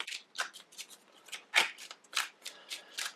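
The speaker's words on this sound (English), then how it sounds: "I'm going to shuffle these back into my deck." Cards from a game deck being shuffled back together, a rapid series of short papery riffles and slaps at close range, fairly quiet, with no voices.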